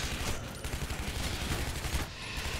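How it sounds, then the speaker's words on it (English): A machine gun fires in the Shadow Warrior game as one continuous, dense, rapid rattle of shots that stays loud for the full length, with no voices. "I got a machine gun"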